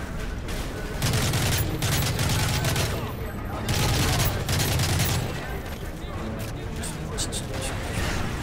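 Explosions from an RPG and grenades in Call of Duty Modern Warfare 3, heavy booms and thuds mixed with sustained automatic gunfire, loud and continuous across the stretch amid battle noise.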